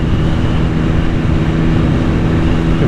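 A 2021 BMW S1000XR sport-touring motorcycle drones steadily while riding, a loud constant engine hum blended with wind rush and no breaks.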